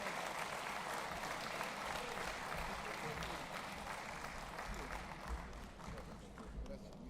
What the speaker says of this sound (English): let's have another round of applause for our 4 Davis Cup Commitment Award winners.